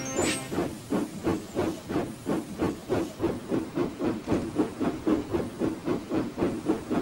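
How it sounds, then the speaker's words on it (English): A steam locomotive chuffs as it pulls away, rhythmic hissing puffs gradually quickening, close and loud, with a short whistle at the start. "I got the train moving"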